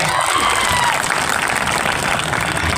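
At a political rally, a large crowd applauds loudly and steadily, a dense wash of clapping that fills the whole moment with faint cheering mixed in.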